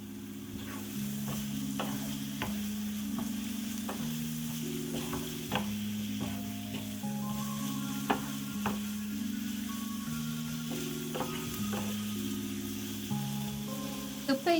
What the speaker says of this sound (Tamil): இப்போ இந்த மசாலாவோட நாங்கள் ஏற்கனவே அவிச்சு வச்சிருக்கிற இறைச்சியையும் சேர்த்துக்கொள்ளுவோம்.